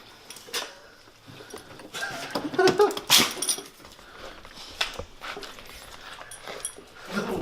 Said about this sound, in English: You wanna come see the worst shop dog?